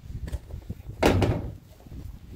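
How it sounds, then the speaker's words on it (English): A lid lifted and a door pulled off a Generac home standby generator: a single loud metallic clunk and rattle of the housing panel, close by, with a few softer handling knocks before and after. "Lift the lid up, take the door off."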